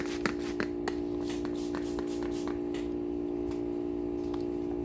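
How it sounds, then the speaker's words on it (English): An old deep freeze hums steadily in the background with a constant low electrical buzz, while scattered ticks and taps of wet-sanding work sound closer. "if you hear that weird buzzing in the background, just about every video, that's my freezer."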